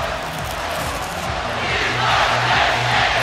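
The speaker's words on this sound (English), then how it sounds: "You can hear State. The We Are Penn State chant." Stadium crowd noise from the College Football 25 video game, a broad roar of many voices building through the clip with a rhythmic low chant of the Penn State cheer underneath.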